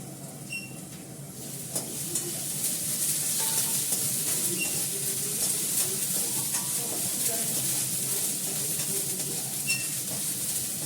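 Cinnamon and cloves frying in hot oil give a steady, dense sizzle with scattered spitting pops throughout. Occasional soft voices sound faintly in the background.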